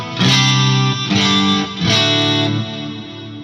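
Electric guitar through a Fractal FM9 Turbo with tape deck emulation, three strummed distorted chords ringing in turn, loud and full with a slight chorus-like sheen, no talk.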